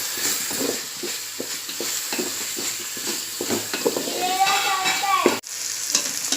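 Spices including garam masala, fennel powder and coriander powder frying and being stirred in a pan for biryani, giving a steady close sizzle with scraping stir strokes and a brief knock near the end.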